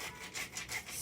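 A hand salt grinder rasps over a pot of spinach soup in a kitchen, producing a quiet, rhythmic gritty grinding in several quick pulses, close and alone.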